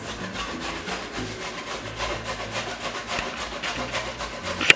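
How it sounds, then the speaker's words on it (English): Carrots are grated by hand for a carrot cake, a rhythmic series of close rasping strokes against the grater, moderately loud, ending with a sharp knock. "grating the rest of the carrots"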